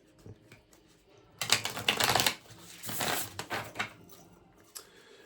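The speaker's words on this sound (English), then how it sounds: "I'll just give it one more shuffle." Wild Unknown tarot cards being shuffled, a dense papery riffling and patter in two main bursts near the middle with lighter card taps before and after, close by and fairly quiet, with no talking.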